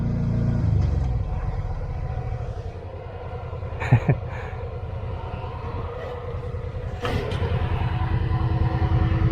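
A side-by-side UTV crawls slowly up a rocky trail near Creede, Colorado, its engine a low steady rumble close by, with a couple of sharp clunks and bumps as it goes over rocks.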